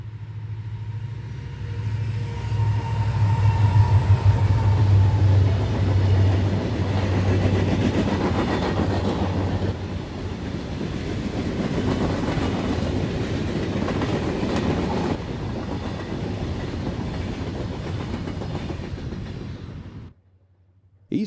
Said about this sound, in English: An SD-50 heads this empty coal train with symbol B111.